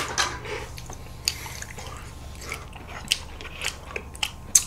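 Close, crisp biting and chewing of food during a mukbang, with sharp crunchy bites recurring every second or so over a faint low hum, no talking.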